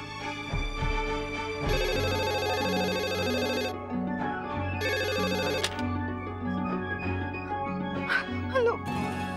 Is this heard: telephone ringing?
yes